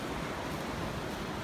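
Ocean surf rolling onto a beach on a rainy, sprinkling day, a steady broadband wash of waves with wind noise, continuous and fairly loud with no distinct breaks and no talking.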